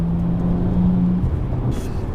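A 2011 BMW 1M engine hums smoothly at a steady pitch close by, with road and wind noise underneath and no talking.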